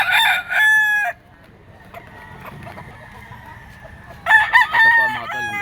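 Roosters crow loudly and close at a chicken market in Lipa, with one long crow at the start and another after a quiet stretch filled with faint background clucking and market noise.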